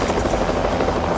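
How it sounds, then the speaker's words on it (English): A US Park Police rescue helicopter hovers at a plane crash scene over water, its steady loud rotor roar filling the whole moment without pause. "a United States Park Police rescue chopper, Eagle One, is already on the scene"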